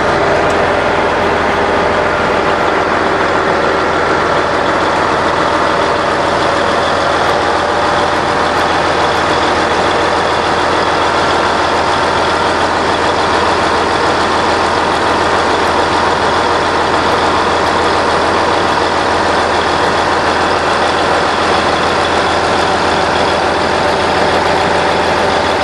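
A Morbark 1200 tub grinder runs continuously, a loud, steady heavy-engine drone with a constant hum and no change in pitch across the whole stretch, no voices.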